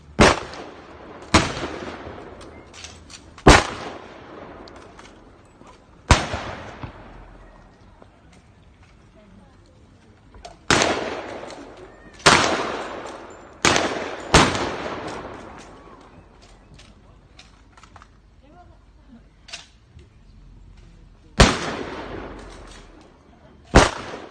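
Gunfire in a battle scene rings out as about a dozen sharp, loud shots, some single and some in quick pairs, each decaying into echo, spread irregularly across a long stretch with quiet gaps between.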